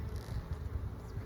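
Honey bees swarm around an open hive being worked by a beekeeper, a steady, dense, close buzzing drone that holds evenly throughout with no talking.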